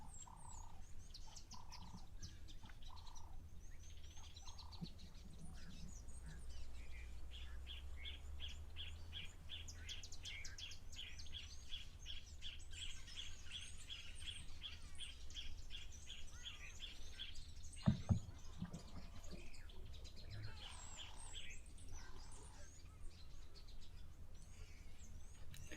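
Birds chirp and call repeatedly around a waterhole, a steady chorus of light tweets over a soft outdoor background, with frogs or insects faint underneath.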